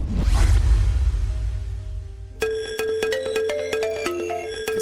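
A mobile phone ringtone starts partway through, a melodic electronic ring of repeated bright tones that plays on alone after a loud rushing whoosh at the start.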